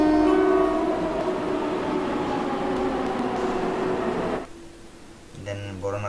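Athens metro trains in a Roblox game rumble steadily with a droning hum for about four seconds, then cut out abruptly before a quieter mechanical tone resumes; a voice talks over the sound.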